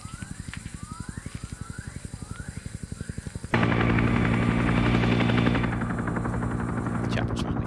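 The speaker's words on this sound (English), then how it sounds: "Chopper's finally coming in." Helicopter flying in during a Vietnam SOG multiplayer video game match, rotor thumping in a rapid steady pulse that suddenly swells into a loud, dense roar as it arrives overhead.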